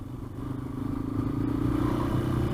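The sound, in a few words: odd rattling noise from a motorbike, maybe a rock caught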